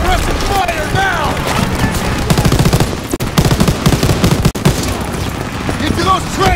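Dense, continuous rapid gunfire and explosions fill a chaotic battle scene in the video game Call of Duty: WWII, with shouted voices mixed in throughout.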